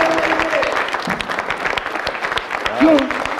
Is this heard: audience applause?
yes